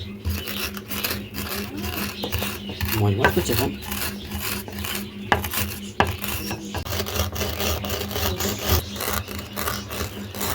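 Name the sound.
crushing cooked greens with a rolling pin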